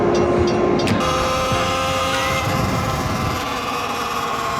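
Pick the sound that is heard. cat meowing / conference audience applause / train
train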